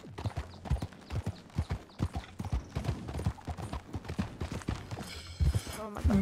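Horse hooves clip-clop steadily in the RedM western roleplay game, a close, continuous rhythmic clatter of footfalls while people talk over it throughout.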